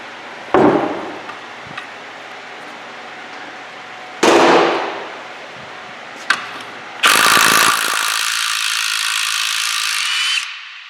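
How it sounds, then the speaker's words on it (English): The head of a bolt being snapped off: a few sharp, loud mechanical cracks and ratcheting bursts close by, separated by pauses, followed by a sustained harsh noise near the end. "So I'm going to go ahead and see if I can snap the head off of this bolt."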